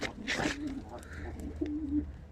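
Pigeon cooing and calling close by during a morning flight session with young pigeons, with a few soft coos standing out over low background rumble and some handling noise.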